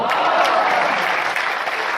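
An audience at a mushaira poetry recital claps in a dense, steady burst of applause that fills the room evenly from start to finish.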